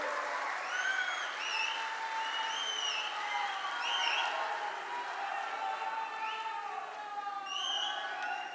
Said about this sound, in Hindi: आप जोर से ताली बजाइए राणे साहब के लिए